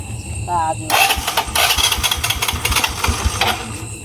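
A motorcycle engine kicks over and catches, then revs and sputters unevenly up close, with people talking around it.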